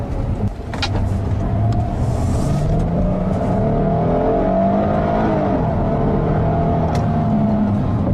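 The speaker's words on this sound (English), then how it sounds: "this new V6 offers plenty of power" A 2014 Kia Sorento SX L's 290-horsepower V6 engine pulls loudly and steadily, its drone climbing in pitch as the SUV accelerates, with a brief lighter rustle near the start.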